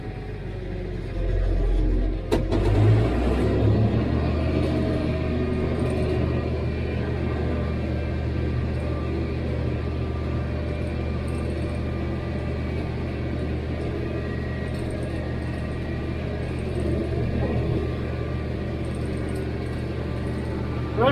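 Massey Ferguson 1105 tractor engine running steadily in first gear while mowing hay with a Krone mower, a loud low droning rumble throughout, with a louder engine surge and a sharp knock near the start.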